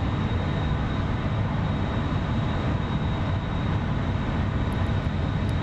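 F-14 Tomcat jet in the DCS flight simulator holding a level turn, a loud, steady engine roar and rushing air that stays constant throughout, with no voice heard.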